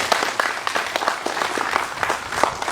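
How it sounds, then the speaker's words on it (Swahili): An audience at a hospital bus handover ceremony breaks into sustained, dense applause, many hands clapping steadily at moderate volume. "Piga makofi."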